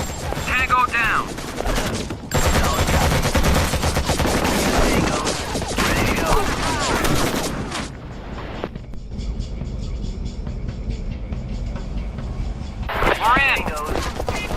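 Dense, continuous gunfire and explosions from the Act of War: Direct Action game in a Libyan oasis camp, loud and sustained through most of the stretch, with brief radio-style voices near the start and end.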